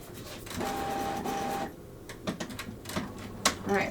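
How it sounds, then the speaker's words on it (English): A printer runs through a sheet of paper, a steady mechanical whir with a brief pause before bursts of clicks and feed noises resume, fairly close and alone. "loading number 12 into the printer"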